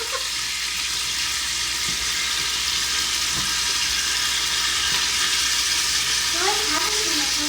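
A spatula mashes and stirs food in a hot pan over a constant frying sizzle, with a few soft scraping knocks on the pan.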